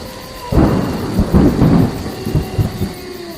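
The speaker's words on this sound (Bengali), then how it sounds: "এর মধ্যে মেঘে আকাশ আচ্ছন্ন হয়ে মুষলধারায় বৃষ্টি আরম্ভ হল।" Heavy thunder rumbles and cracks in a thunderstorm, a loud rolling burst arriving after a quiet start and fading in uneven waves over a background of pouring rain.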